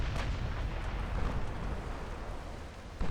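Warship exploding and burning in a flash fire during a naval battle in Ultimate Admiral Dreadnoughts, heard as a dense, sustained low rumble of blasts and roaring fire, with a fresh burst at the end.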